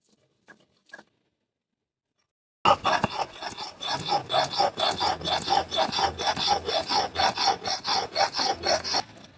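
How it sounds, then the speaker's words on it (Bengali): Ginger and garlic are ground into paste for a Bengali soya chilli dish, giving a close, rhythmic rasping scrape repeated in quick strokes after a few seconds of near silence. "আদা রসুনটা বেটে নেব।"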